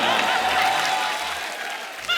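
Studio audience clapping at a Hindi comedy talk show stage, a dense broadband wash of applause sustained throughout at steady loudness, swelling briefly again at the very end.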